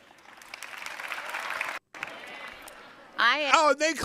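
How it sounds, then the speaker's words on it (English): An audience at an event applauds in a steady rush of clapping that cuts off briefly, resumes more faintly, then gives way to a close speaking voice. "They're clapping"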